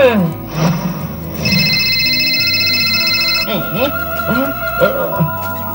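A telephone rings with bright, repeating electronic tones over a busy background of music and voices, fairly loud and steady for several seconds.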